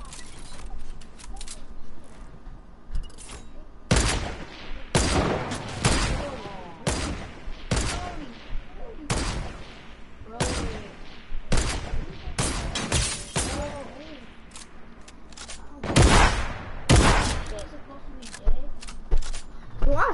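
A combat shotgun fires repeatedly in a shooter video game, a dozen or so loud, sharp blasts spaced irregularly over twenty seconds, with players talking between shots.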